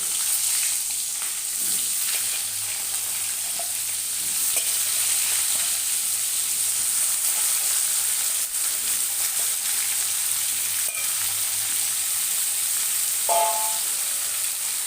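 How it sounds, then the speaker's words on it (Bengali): Cut potatoes, pointed gourd and tomato fry in hot oil, a loud continuous sizzle with occasional soft stirring clatter. "কেটে ধুয়ে রাখা আলু পটল আর টমেটো এর সাথে এই তেলের মধ্যে আমি ছেড়ে দিচ্ছি"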